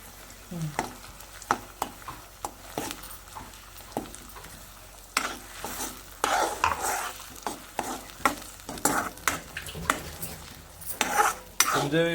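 Vegetables stirred in oil in a pan at a Konkan home kitchen, with a steady run of close scraping clinks and knocks over a soft sizzle and no talking.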